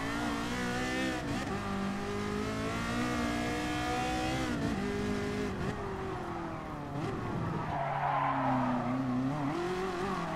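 Ferrari GTO '84 driven in the racing game Gran Turismo Sport, its engine note rising and falling through gear changes, with a burst of tire squeal near the end and no talking.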